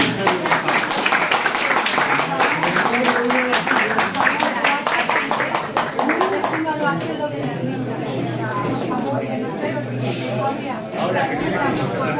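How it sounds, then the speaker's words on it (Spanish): Lecture audience applauding after a talk on the mysteries of the tower of Colmenar Viejo, dense rhythmic clapping that thins out over several seconds as chatter and voices take over. "un aplauso para la gente"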